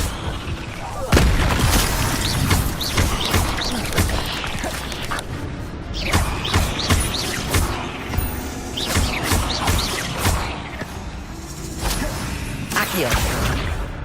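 Repeated fire spells cast in the Hogwarts Legacy video game, loud whooshing bursts and booming impacts one after another across the clip, mixed with game effects and a voice shouting spell names.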